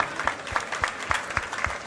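Applause from the audience at an NCP (Sharad Pawar faction) party workers' meeting in Mumbra, a short burst of loud, rhythmic clapping from many hands.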